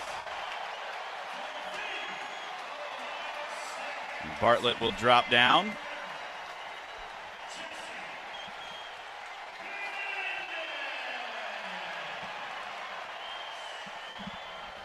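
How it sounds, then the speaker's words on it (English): Crowd at an NCAA men's wrestling tournament session cheers and applauds after a Penn State wrestler loses. A sustained low roar of crowd noise and applause runs under a commentator's voice, with a sharper burst of sound in the middle. "That gets the crowd going a little bit to see Penn State lose."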